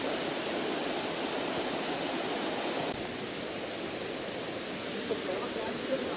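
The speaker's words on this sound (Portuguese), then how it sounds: "Isso é uma nascente, tá?" Natural spring water flows steadily along a waterfall park trail in Bonito, Brazil, a dense, continuous rushing wash that stays even from start to finish.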